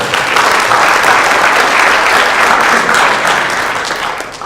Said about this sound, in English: I allow for some of the applause to go through because people want to support their candidates